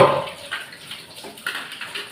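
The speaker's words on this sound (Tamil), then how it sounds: "நான் பால் பாத்திரத்தெல்லாம் தண்ணி போட்டு ஊற வச்சிடுவேன்." Water splashes and trickles into dirty milk vessels set to soak in a kitchen, a brief close pour followed by soft intermittent sloshing.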